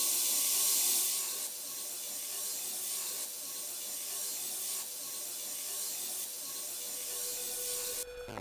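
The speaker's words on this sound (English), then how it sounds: "while the ultrasonic cleaner is running" Ultrasonic cleaner running with PCB cleaning solution while restoring a Sega Master System, a steady close hiss and hum with faint tonal whine that continues throughout, ending with a brief buzzy burst.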